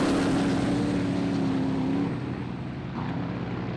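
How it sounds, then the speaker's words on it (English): V8 rally car engine at full throttle on a fast, dusty rally stage: a sustained roaring drone with a steady tone that fades slightly as the car moves off. "The sweet sound of the V8 at full throttle is just what he would be looking for."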